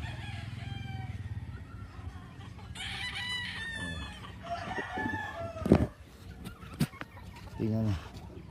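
Gamecock roosters crow loudly and repeatedly at close range on a large breeding farm, with hens clucking and other farmyard noise around them.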